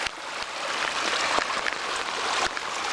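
A small creek swollen after rain runs fast through its rapids at a rock dam, a steady broadband rushing wash close by with a few sharper splashes, no talking.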